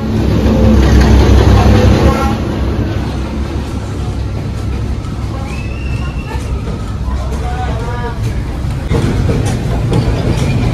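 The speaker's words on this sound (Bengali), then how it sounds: "তো ফাইনালি ট্রেন আসছে, দেখা যাক। ট্রেন আসছে, তো আমাদেরকে দাঁড় করিয়ে দিয়েছে," A train rolls through Hanoi's narrow Train Street, a loud, heavy rumble with brief tonal whines as it passes close by, while a crowd of onlookers chatters throughout.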